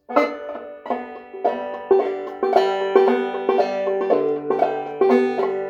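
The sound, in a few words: clawhammer banjo playing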